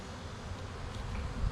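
Honeybees buzzing around a nuc hive during a beekeeping inspection, a continuous close, low hum with no talking.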